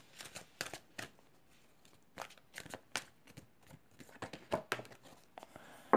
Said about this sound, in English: I do pre-shuffle all the decks and prepare for the readings.